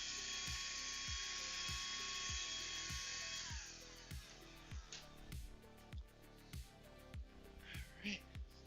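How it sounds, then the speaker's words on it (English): Handheld vacuum cleaner running with a high whirring motor whine that drops away partway through, leaving intermittent clicks and bumps of handling. "Just went to go grab my hand vacuum. I love this thing. It's good for doing like light vacuuming."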